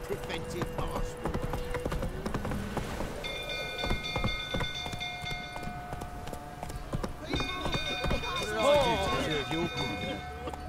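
Rhythmic hoofbeats of a horse clip-clopping along in The Witcher 3: Wild Hunt, steady and fairly close, with ambient game sounds and brief voices layered over them.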